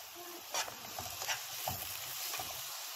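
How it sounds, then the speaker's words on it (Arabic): Minced meat frying on onions in a pan for béchamel pasta, a soft sizzle broken by several scraping stir strokes, close but fairly quiet. "هنزل باللحمة المفرومة كده على البصل اهو"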